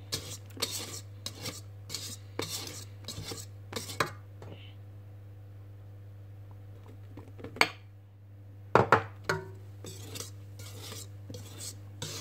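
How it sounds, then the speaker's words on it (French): A utensil gently folds sifted flour into whipped batter in a bowl for a raspberry vanilla mousse cake, giving soft rhythmic scraping strokes over a steady low hum, with a short pause midway. "je mélange délicatement"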